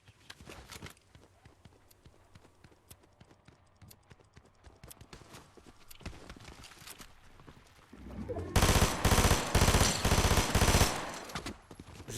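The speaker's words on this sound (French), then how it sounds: "Ouh, ça tire beaucoup." Gunfire in the video game Fortnite, rapid bursts of shots throughout that build into a loud, dense barrage of automatic fire near the end.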